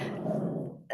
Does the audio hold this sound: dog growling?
yes